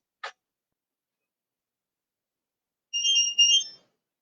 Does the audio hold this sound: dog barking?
no